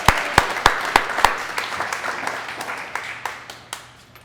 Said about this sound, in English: let's hear another round of applause for that